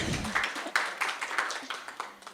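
Applause from an audience at an Indonesian political talk show, faint and brief: a soft run of scattered hand claps lasting a couple of seconds.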